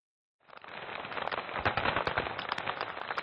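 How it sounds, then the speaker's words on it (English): Heavy gunfire crackles at the Kenya-Somalia border in Mandera during fighting between Jubaland forces and Somali National Army troops, a dense rapid stream of sharp reports and bursts rising to a sustained rattle. "Heavy gunfire as forces from the Jubaland Autonomous Region engaged their Somalia National Army counterparts"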